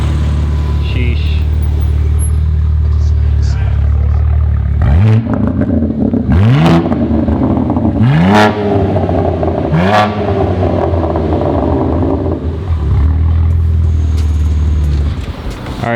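A BMW G82 M4 fitted with a valvetronic exhaust idles with a deep rumble, then revs sharply four times in close succession, each blip rising and falling loudly.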